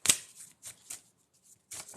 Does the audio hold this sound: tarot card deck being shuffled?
yes